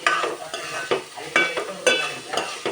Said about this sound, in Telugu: అడుగంటకుండా మనం మిడిల్లో కలుపుతూ ఉండాలి.